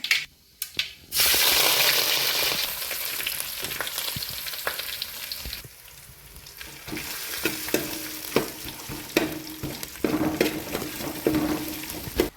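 Crushed ginger, garlic and curry leaves hit hot oil with mustard seeds for a crab curry. A loud sizzle bursts up after a short pause and gradually settles into steady frying, with scraping and stirring clatters throughout.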